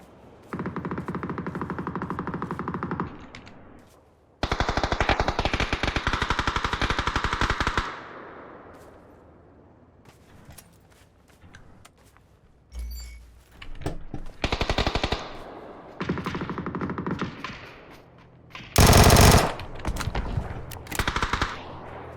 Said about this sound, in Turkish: Yerden kalktı direkt vurdu Suat.